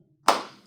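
A single sharp hand clap is heard alone and fairly close, standing in for a letter while the Bingo song is sung.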